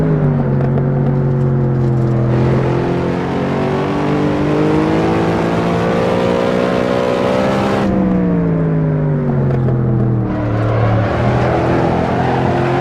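A modded Cadillac CTS-V with an aftermarket-style exhaust in Assetto Corsa, its V8 engine droning loud and close as revs climb and fall through gear changes, with tonal pitch sweeps rising and dropping repeatedly.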